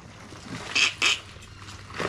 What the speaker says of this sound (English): Got my geese in the background.